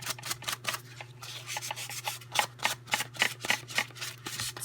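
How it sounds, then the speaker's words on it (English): A small piece from a 2013 Button Farm craft kit is sanded by hand. Quick, rhythmic rasping strokes repeat about twice a second, close and fairly quiet, with no voices. "let's sand this a little bit now."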